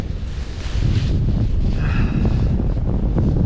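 Steady wind rushes over the microphone during a glider flight in an easterly breeze, a continuous loud buffeting roar with no voices.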